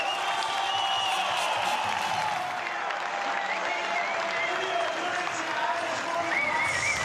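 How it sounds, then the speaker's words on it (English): A large outdoor crowd cheers and applauds at a mountain bike freeride event in Nuremberg, Germany, a steady, dense roar of clapping and shouting that holds for the whole stretch, with some voices whooping above it. "Listen to the crowd"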